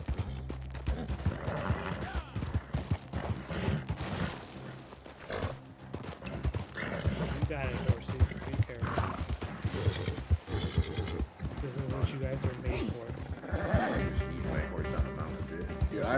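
Horse galloping with hooves clip-clopping and occasional neighs in the video game Red Dead Online, running steadily through snow beneath a busy music-and-effects mix while someone talks over it.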